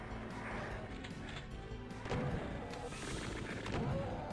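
Chaingunners open fire in DOOM on a fast-moving map: scattered sharp gunshot bursts and booms over a constant game-noise bed, a few stronger hits clustered toward the second half.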